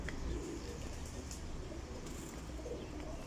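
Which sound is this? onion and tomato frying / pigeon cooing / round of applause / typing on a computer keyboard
pigeon cooing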